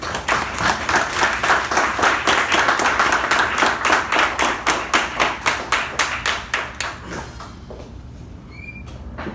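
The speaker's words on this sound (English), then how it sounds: "please help me welcome Toastmaster Gaurav with a huge round of applause" Audience applause at a Toastmasters installation ceremony, loud steady clapping from a crowd that fades into scattered claps and dies away near the end.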